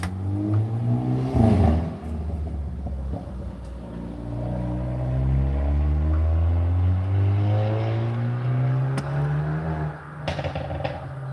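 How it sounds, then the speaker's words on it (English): A car drives past outside, its engine rising and falling in a long smooth sweep of rumble and whine that builds, peaks mid-way and fades, with faint room noise and no talk. "Waiting for that car to go."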